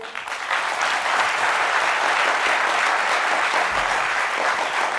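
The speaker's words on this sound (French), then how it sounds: "On va applaudir notre invité." An audience applauds a guest at a Grand Café event with a government minister, a dense, sustained wash of clapping that swells quickly and holds steady, with no voices over it.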